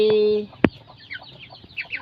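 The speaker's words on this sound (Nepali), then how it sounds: "यो मेरो सानो ब्रोइलर कुखुरा पालनको खोर तपाईहरुलाई देखाउँदैछु साथीहरू" Broiler chickens in a small backyard coop give faint, scattered peeps and soft clucks after a brief steady tone at the start, with low rustling between calls.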